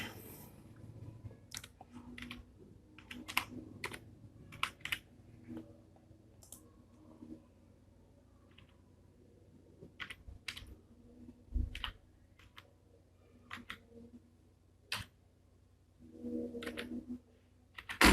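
Scattered clicks of a computer keyboard as a username and password are typed into a router login page, coming in quiet irregular bursts with pauses between keystrokes against a low background hum.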